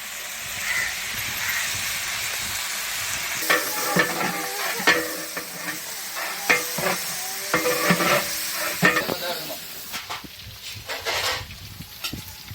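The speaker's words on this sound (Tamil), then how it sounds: "இப்போ கொத்தமல்லி புதினா போட்டு நல்லா வதங்கிருச்சு" Onions fry with coriander and mint in oil for a large batch of chicken biryani, giving a steady sizzle with scraping stirs and clattering pot strokes that grow busier toward the end.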